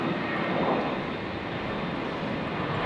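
A Jetstar airliner departing Brisbane airport, bound for Canberra, gives a steady, loud broadband jet roar that holds level for the whole stretch with no voices.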